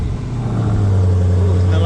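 A car engine turning over and settling into a steady low idle just after an oil catch can install, close and fairly loud, with a person talking over it.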